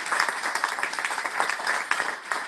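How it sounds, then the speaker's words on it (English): A press-conference audience gives a short round of applause for Senator Paul Mark, dense, steady clapping at moderate volume with no voices over it. "Can we give a round of applause for Senator Paul Mark?"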